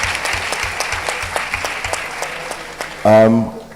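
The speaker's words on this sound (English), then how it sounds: "I think this gentleman deserves a round of applause" An audience applauds steadily with rhythmic clapping, and near the end a voice breaks in over the fading applause.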